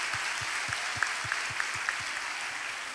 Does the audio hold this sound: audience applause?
yes